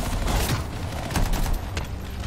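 Loud, dense weapon fire in the video game Anthem, a continuous close barrage of shots and booms for a couple of seconds.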